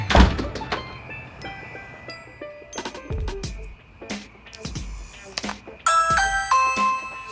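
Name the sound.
doorbell pressed by a Switchbot button pusher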